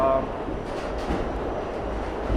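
An NYC subway train rumbles toward Midtown Manhattan during morning rush hour, with a steady low roar and faint track rattle heard from inside the car.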